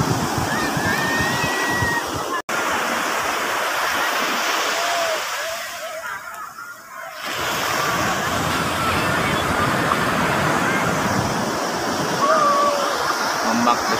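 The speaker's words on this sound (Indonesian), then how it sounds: "Ombak besar." Steady roar of ocean waves breaking and surging at Batu Bintang Beach, Pelabuhan Ratu, Sukabumi, loud and continuous, briefly dropping before the surf rushes back in.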